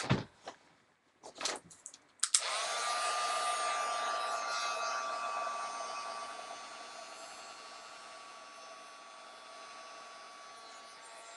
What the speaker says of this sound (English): I'm going to close this up, and I'm going to heat set this.